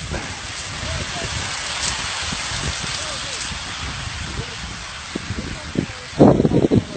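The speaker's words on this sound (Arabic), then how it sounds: "هذا برد." Hail falls in a dense, crackling patter with some wind, and the hits grow sharper and louder toward the end while voices murmur faintly underneath.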